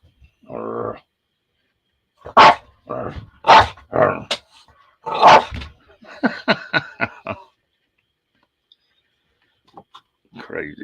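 A dog barks in short, ferocious bursts outdoors in Texas heat, several sharp barks in a row close by, broken by pauses and mixed with someone talking.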